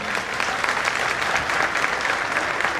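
A crowd at a Jain Panchkalyanak religious ceremony breaks into loud, sustained applause, dense clapping that stays even and close from start to finish.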